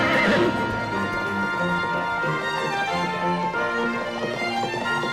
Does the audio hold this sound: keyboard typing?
no